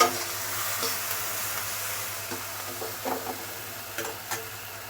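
Boiled jackfruit seeds fry in a pan with a soft, steady sizzle, while a utensil scrapes and taps against the metal now and then as they are stirred.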